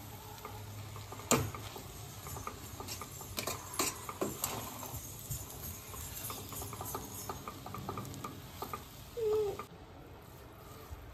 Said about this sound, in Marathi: पुन्हा एकदा सगळं व्यवस्थित हलवून घ्यायचं।